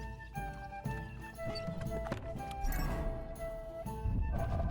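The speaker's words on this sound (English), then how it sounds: "Horse." Horse hooves clop in the medieval role-playing game Kingdom Come: Deliverance II, a quiet, steady walking rhythm of hoof strikes under background game music and ambience.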